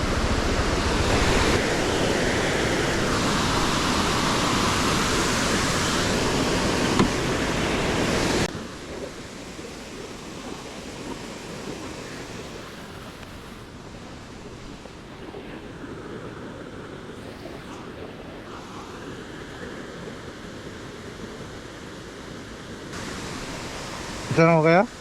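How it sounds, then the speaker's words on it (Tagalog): A waterfall at B2 Bridge pours as a loud, broadband rushing roar that drops abruptly to a quieter, more distant wash, with faint voices in the background. "Ito pa ang isang napakagandang falls na matatagpuan dito sa B2 Bridge."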